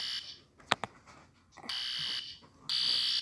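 A pulled fire alarm rings in loud, sustained electronic bursts that stop and start, with a sharp clatter and brief quiet gaps between the blasts.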